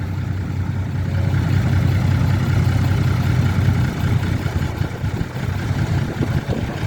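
A farm tractor engine runs steadily nearby in a Thai village, a loud continuous low diesel rumble with slight rises and no pauses.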